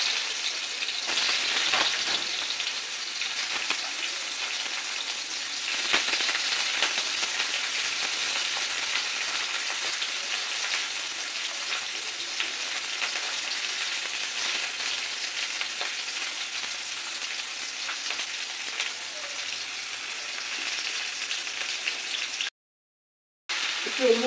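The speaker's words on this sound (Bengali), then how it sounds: "গাজরগুলো আগে একটু ভেজে নেবো।" Carrots fry in a hot pan for restaurant-style mixed chow mein, a loud, steady, close sizzle that hisses on without a break until a brief cut just before the end.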